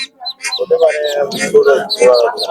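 Chinese duck ducklings at a village poultry market chirp in quick, high peeps, tangled with nearby voices talking over them throughout.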